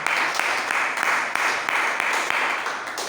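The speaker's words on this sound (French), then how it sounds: "Est-ce que vous pouvez donner une acclamation au Seigneur?" Church congregation applauding and cheering for the Lord during an evening service, a steady wash of clapping with occasional sharper claps standing out, continuous for several seconds.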